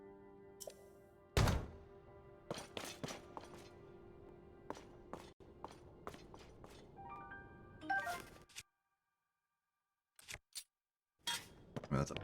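In Tears of the Kingdom, a sledgehammer swings and lands in a series of sharp metallic thunks and clanks, spaced irregularly, with brief ringing tones, a silent gap, then a few more hits.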